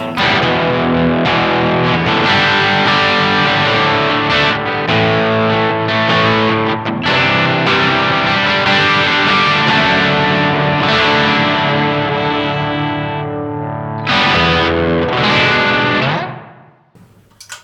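Electric guitar on a dirty, distorted channel through a Nux Verb Core Deluxe reverb pedal, playing continuous chords and riffs with a subtle room reverb, loud and close, ending with a brief decaying tail.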